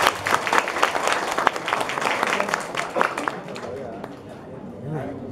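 Applause from an audience at the close of a medical lecture on new internal medicine treatments, dense clapping filling the first three seconds and then thinning out as scattered voices carry on underneath.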